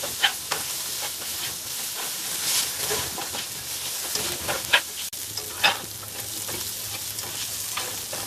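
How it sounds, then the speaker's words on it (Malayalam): Onions sautéing in a pan with soya chunks, a dense steady sizzle and hiss close up, broken by occasional stirring scrapes and clicks. "അത്ര നേരം നമുക്ക് ഇളക്കി കൊടുക്കാം"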